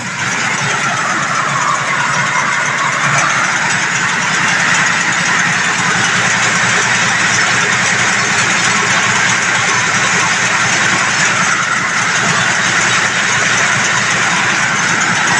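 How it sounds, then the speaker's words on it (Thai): A single-head rice mill with a 24-inch stone huller runs steadily as a continuous, loud mechanical drone and rumble, a busy broadband whir with no pauses and no voices. "เป็นการทำงานของเครื่องนะครับ"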